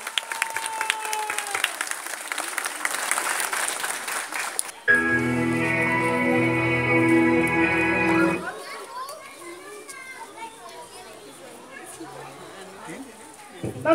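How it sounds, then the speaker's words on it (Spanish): An audience applauds at a preschool graduation, with loud steady clapping for a few seconds amid children's chatter and talking before and after, in a lively crowded setting. "Vamos a dar un fuerte aplauso a toda la generación que hoy concluye su educación preescolar."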